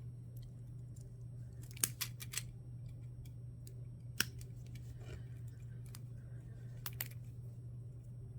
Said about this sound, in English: I'm just going to cut these off.